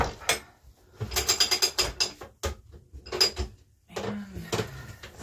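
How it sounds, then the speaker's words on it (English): A weaving loom's ratchet clicks and clatters in quick irregular bursts as the warp is advanced for towels, close-up mechanical ticks with short pauses between them. "So we'll go ahead and advance the warp."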